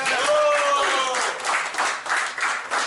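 Applause from the audience at a high school alumni association's annual general meeting and year-end party fills the room, steady and moderately loud, with a voice speaking over the opening moments.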